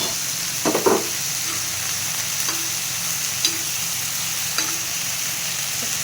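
A spoon stirs chicken bharta with tomato and yogurt in a hot pan, a steady close sizzle underneath with a few scattered scraping strokes and light knocks, no talking.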